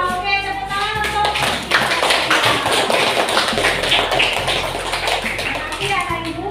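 A classroom of schoolchildren applauds a classmate with steady, dense clapping, close and loud, while children's voices chatter underneath.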